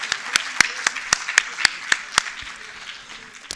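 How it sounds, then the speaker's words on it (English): Audience applause for four panel members leaving the stage at a men's conference, a steady round of claps with several sharp nearby hand claps standing out, fading toward the end. "can we give one last round of applause to our 4 panel members as they exit?"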